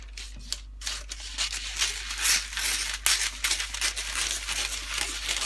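Scissors cut through a sheet of baking paper, giving a run of crisp snipping and crinkling rustles at close range with no talk.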